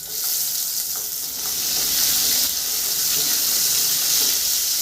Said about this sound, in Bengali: তেল গরম হয়েছে, মাছগুলো দিয়ে দিব।